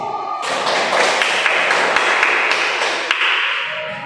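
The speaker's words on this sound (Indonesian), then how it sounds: "untuk semuanya berikan tepuk tangan" A group gives a round of applause after a classroom discussion, a loud burst of many hands clapping that starts abruptly, holds steady, then thins toward the end.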